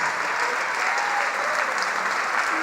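A church congregation applauds during a worship service, a steady dense wash of clapping that holds at an even level throughout, with a voice faintly present underneath.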